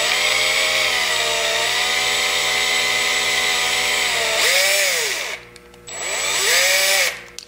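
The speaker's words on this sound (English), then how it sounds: "Seriously, my first screws are going in." A power tool drives the first screws into an RC car kit, a steady close whine with short pitch dips as each screw seats, then brief pauses and a second run.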